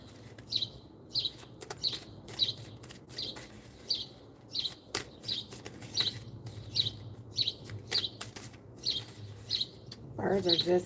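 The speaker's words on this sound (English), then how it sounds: "Birds are just singing" Birds singing outdoors, with repeated bright chirps and tweets at a steady rhythm throughout, moderately loud over a low ambient hum and some background voice activity.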